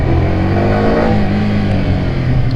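A Yamaha R15 motorcycle engine revs hard and close, a loud continuous roar with a rising buzzy tone and no talk over it.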